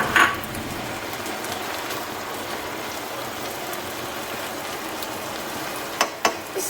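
Sliced fresh onions fry and soften in a pan with a constant, even hiss, then a few sharp metallic clinks of a spoon on the pan near the end.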